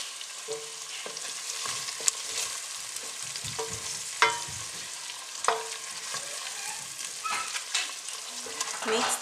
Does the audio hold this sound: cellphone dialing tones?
no